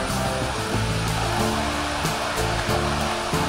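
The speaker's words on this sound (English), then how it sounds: "this is the water that feeds the waterfall" Water in a stream on the trail near Thommenkuthu waterfalls rushes steadily, a loud, close broadband roar under low tonal hum.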